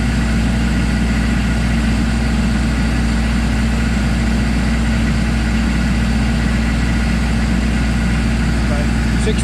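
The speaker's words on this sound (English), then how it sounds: "you'll watch as that compressor gets fuller. Obviously it'll have to work harder." A military MEP-804A generator drones at a constant, heavy low hum while powering an air compressor that is filling up, a close, unbroken engine-like rumble with no pauses.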